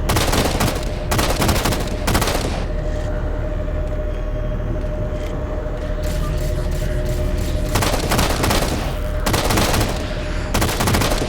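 Gunfire in the video game Halo: The Master Chief Collection, coming in loud bursts of rapid automatic shots with a quieter rumbling stretch between them, backed by a low continuous game soundscape.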